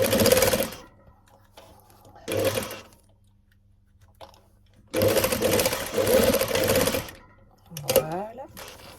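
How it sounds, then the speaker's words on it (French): A sewing machine stitches the final corner of lined fabric in short bursts: a brief run, a pause, another short run, then a longer steady stretch, with a voice speaking briefly near the end. "Je termine à piquer le dernier coin."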